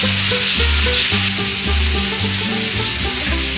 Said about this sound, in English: But the good thing about sanding this versus Bondo is this sands very quickly.